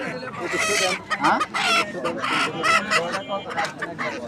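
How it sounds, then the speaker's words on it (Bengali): Chickens at a morning poultry market at Bonpara bazaar cluck and squawk busily up close, with a brief crow mixed in among market voices. "এই পাশে আছে মুরগি"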